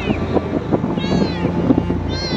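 A kitten riding on a motorcycle along a main road meows several times in thin rising cries, close and fairly loud over a constant rush of engine and wind noise.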